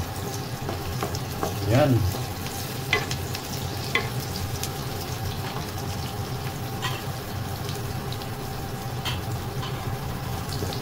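Garlic frying in margarine in a pan for home-style fried rice, a steady low sizzle with occasional scraping stirs and clinks, while a voice speaks briefly over it.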